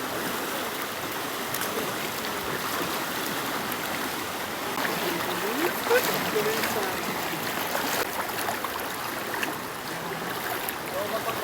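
A waist-deep river crossed on foot, the stream rushing and splashing continuously around the waders, with voices faintly mixed into the steady flow of water.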